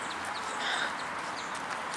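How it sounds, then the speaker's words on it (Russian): Birds sing outdoors on sanatorium grounds near a road, with faint, scattered high chirps over a steady background hiss. "Как птицы поют, надеюсь, слышно вам."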